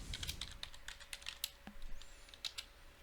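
Rapid typing on a computer keyboard while writing PowerShell code, a close run of light, irregular key clicks with brief pauses, faint and with no talk.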